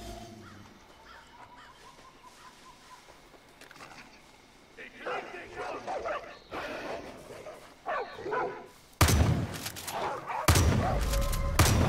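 A dog in the video game Far Cry New Dawn barks in short, scattered bursts amid quiet game ambience, followed near the end by loud, dense bursts of gunfire.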